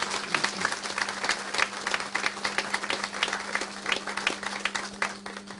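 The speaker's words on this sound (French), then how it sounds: "je vous demande de l'applaudir très fortement" Steady applause from an audience at a gala dinner in Saint-Cloud, dense clapping sustained throughout with a faint constant hum underneath.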